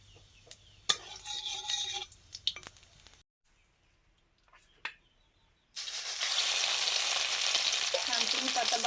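Nigella seeds and thankuni leaves hit hot mustard oil in a wok, producing a loud, steady frying hiss after a few seconds of soft clinks and a quiet pause.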